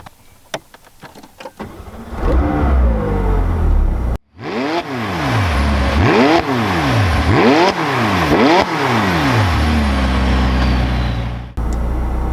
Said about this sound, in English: So let's start the car and hear how she sounds.